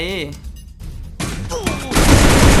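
Rapid automatic gunfire in the battle royale video game Free Fire, loud and sustained bursts building toward the end, while a player shouts excitedly over the shooting.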